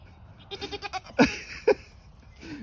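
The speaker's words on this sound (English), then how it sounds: "You're the most raggedy looking goat I've ever seen in my life." A baby goat with a raggedy spring-shedding coat bleats several times close by, a quick series of short calls followed by two louder, sharper bleats and a fainter one at the end.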